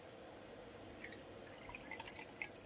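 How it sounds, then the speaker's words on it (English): Tea is poured into a cup in a quiet indoor room, with faint liquid trickling and a few small bright drips and clinks against the cup, soft and close, with no talk. "So I'm gonna pour a cup of tea"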